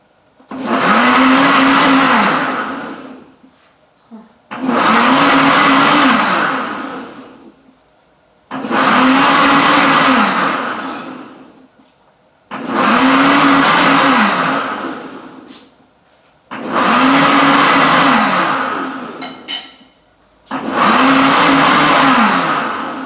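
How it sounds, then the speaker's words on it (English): A loud blender whirs in six bursts of about three seconds each, separated by short pauses, with no voices. "I'm just gonna put the blender on start now"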